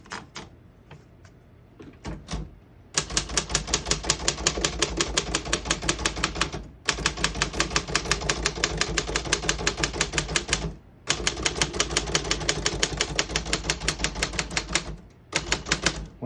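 Steady rapid typing on a 1937 Royal KHM antique desktop typewriter, dense mechanical keystrokes clacking close and loud in long runs with brief pauses between bursts, a few isolated strikes at the start.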